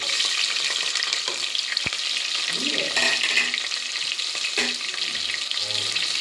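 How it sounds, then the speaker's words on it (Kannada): Onions frying in hot oil for a vegetable pulao, a steady dense sizzle throughout with a few stirring scrapes and clinks close by, no talking. "ಈರುಳ್ಳಿನ ಚೆನ್ನಾಗಿ ಫ್ರೈ ಮಾಡ್ಕೊಳ್ತೀನಿ"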